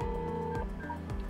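Short run of DTMF keypad tones as a room number is dialed on a Dahua intercom, a few clean evenly spaced beeps close up and fairly quiet.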